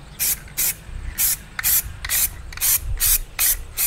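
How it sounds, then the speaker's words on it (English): Anti-gravel rubbery coating sprayed from an aerosol can onto a car fuel tank, close up in short hissing bursts of about a third of a second each, roughly nine in a fairly even rhythm, with no talking. "This is an anti-gravel spray, so it's like supposed to be like kind of rubbery."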